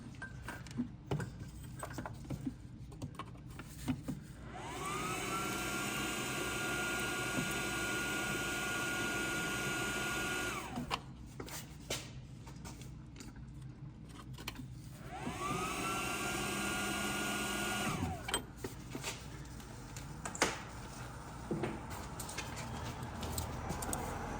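Torch flame roaring steadily against rusty suspension bolts on a Nissan 350Z during a coilover conversion, two sustained hissing bursts of several seconds each separated by a pause, close and loud with no talk.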